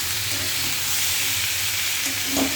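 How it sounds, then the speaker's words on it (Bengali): Fish curry sizzles steadily in hot oil with green and dried chillies and raw tomatoes, a close, continuous frying hiss with no voices. "আমি মাছের ঝালটা আজকে রান্না করছি একদমই কাঁচা লঙ্কা আর এই শুকনো লঙ্কা দিয়েছি"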